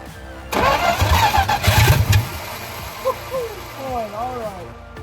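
Old Dodge D200 pickup truck with a loose starter missing its top bolt cranks briefly, then its engine catches and fires into a rough idle, with squeaky whining tones as it settles.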